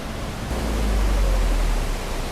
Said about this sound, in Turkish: Paloiç Şelalesi burası